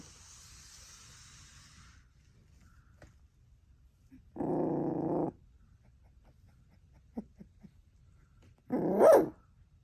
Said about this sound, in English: Yep, so these guys are already barking now.